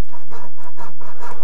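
Small bow saw cutting a curved turn across the grain of wood, quick rhythmic rasping strokes back and forth, close and loud.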